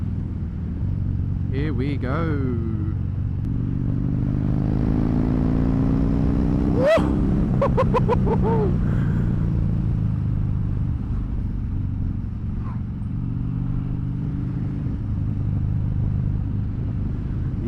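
Harley-Davidson Fat Bob motorcycle riding with a steady, loud engine rumble throughout and a sharp rev surge midway, while a rider talks and whoops over it.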